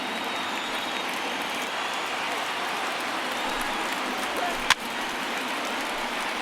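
A stadium crowd of about 24,000 in the MLB The Show 19 baseball video game roars in a dense, steady wash of cheering and applause, with one sharp knock partway through.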